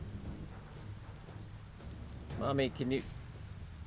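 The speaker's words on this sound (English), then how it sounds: "Alright, it's raining." Rain and thunder from the video game Biomutant, a steady low rumbling wash of rainfall running throughout, with a voice speaking briefly over it partway through.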